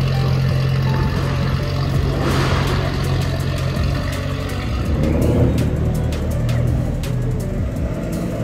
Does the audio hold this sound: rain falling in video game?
no